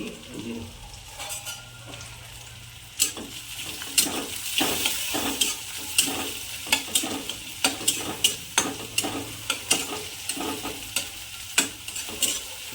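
Onions and green chilies fry in a pan while a spatula stirs them, giving a steady sizzle punctuated by a regular series of sharp scraping clacks against the pan, close and fairly loud.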